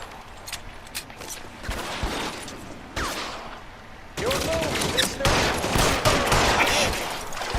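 Gunfire bursts in the L.A. Noire video game, irregular shots and volleys crackling through busy game noise, growing denser and louder in the second half.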